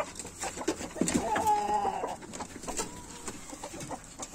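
Chickens in a coop make soft, scattered clucks and calls near the microphone, with a brief tonal squawk, all over a quiet, rustling barn background.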